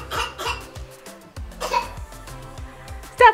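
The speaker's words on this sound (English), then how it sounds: "Stop fake coughing, you silly." A child fake-coughs in a home playroom, giving a few short, scattered coughing bursts spread irregularly across the stretch, close by, with a sharper final burst near the end.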